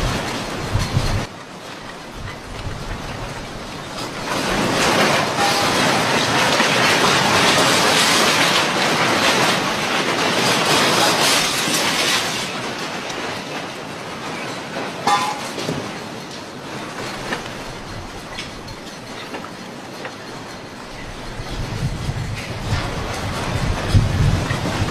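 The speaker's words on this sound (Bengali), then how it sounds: "একবার ট্রেনের অবস্থাটি দেখুন।" A train passes close by, its loud rushing roar and clattering wheels building and holding for many seconds before easing off, with some wind noise.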